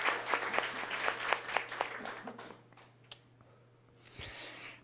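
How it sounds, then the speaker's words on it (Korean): Church congregation applauds the children during a Sunday service: a brief, fairly quiet burst of distinct claps that thins out and fades within a few seconds, with a few scattered claps later over a low steady hum. "우리 아이들을 위해서도 박수를 한번 쳐드리죠."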